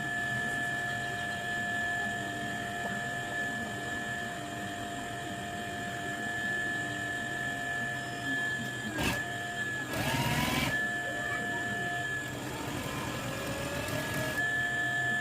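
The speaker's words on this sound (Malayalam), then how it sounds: "ഇനി സ്റ്റിച്ച് ചെയ്യാൻ നോക്കാം." A sewing machine stitching a skirt runs steadily under a continuous mechanical whine and hum, with a few brief clacks and rustles of fabric handling partway through; no talking.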